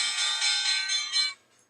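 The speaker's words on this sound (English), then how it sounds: "That's the bell." A bell rings steadily for just over a second with a bright, ringing metallic tone during a live stock-trading broadcast, then cuts off into near silence.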